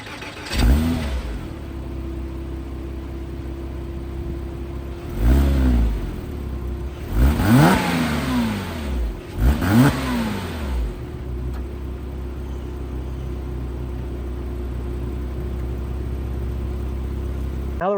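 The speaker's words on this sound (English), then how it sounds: "when you want to start this car, you do have to press in the clutch to start the vehicle" A 2006 Porsche Cayman S engine starts with a clutch-in crank, then settles into a steady idle broken by several sharp revving bursts, loud and close, with no talking.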